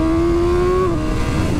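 A 2022 BMW S1000R naked motorcycle engine holds a strong, steady high rev from the rider's seat, then the pitch drops as it shifts or eases off. Wind rush sits underneath, and no one speaks.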